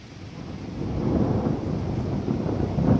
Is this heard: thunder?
yes